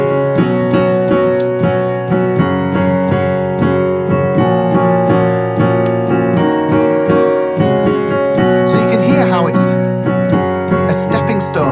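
A chord progression in the style of a song, played with power chords, rings out loud and steady with a regular rhythmic pulse of attacks and no talking over it.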